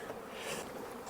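Honeybees buzzing during a hive inspection, a brief, soft, steady hum of many bees nearby, with a small knock at the very end.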